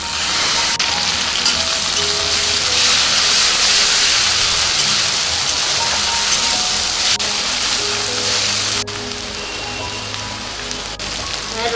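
Onion paste dropped into hot mustard oil for a Bengali tengra fish curry, giving a loud, steady hissing sizzle that holds throughout and eases a little near the end, with no talking.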